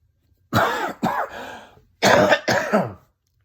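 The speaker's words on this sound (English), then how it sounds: "I still got a little bit of a cough" A person sick with flu-like illness coughs and clears their throat close up, two separate bursts of two harsh hacks each, with silence between them.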